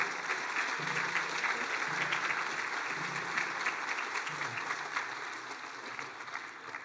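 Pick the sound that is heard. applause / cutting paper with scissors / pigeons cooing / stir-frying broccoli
applause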